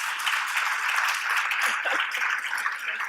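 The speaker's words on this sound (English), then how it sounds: "Let's give them a round of applause." An audience at a closing general session of a transit conference applauds the panelists, a dense, steady wash of many hands clapping at fairly close range, sustained throughout with no talking.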